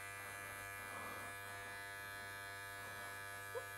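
Electric hair clippers hum steadily at low level throughout a barber's fade haircut, with the blade corner working out dark spots; a faint, continuous buzz with no speech.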